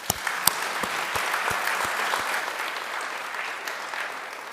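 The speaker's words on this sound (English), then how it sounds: "I think that deserves a round of applause" Ceremony audience applause at a community college alumni awards event, with several sharp individual claps up front blending into a sustained crowd of clapping that tapers gradually.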